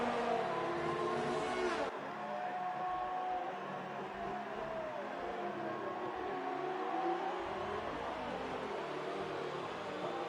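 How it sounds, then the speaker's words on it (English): Formula One race cars in a racing video game, engines droning steadily at high revs for the whole stretch, with one car shifting pitch early on and a continuous whine beneath it, no voices. "Looks like the lap car of Colinas is going to get in the way"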